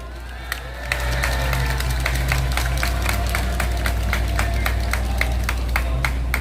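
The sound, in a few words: applause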